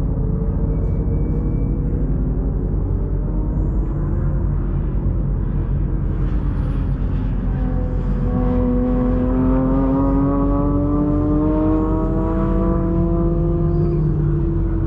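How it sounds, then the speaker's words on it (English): A yellow Porsche and a Ferrari race around a track in a sports car event. Engines rumble in the distance and rise in pitch as the cars accelerate and pass, heard alone at a moderate distance. "And here comes Christopher in the yellow Porsche."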